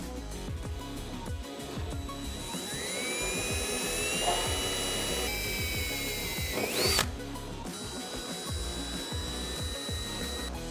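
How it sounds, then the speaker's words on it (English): A power drill whines steadily as it bores pilot holes into the steel radiator support of a 1965 Mustang, its pitch shifting as the bit bites and eases, loud and close with no talking. "Now that we're clear, we can drill out the radiator support."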